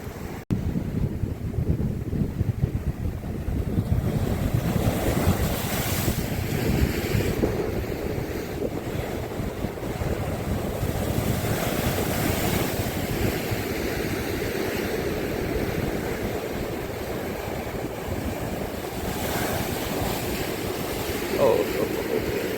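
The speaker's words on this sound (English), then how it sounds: "Pretty good waves, actually." Ocean surf breaking on a Tasmanian beach in winter, a loud continuous wash of waves with heavy wind buffeting the microphone throughout.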